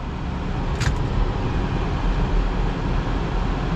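A 2025 BMW X5 M Sport with the B58 engine drives slowly through a turnaround, its steady engine and road noise filling the cabin, with one brief faint high squeak early on.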